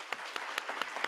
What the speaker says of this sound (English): Round of applause for her.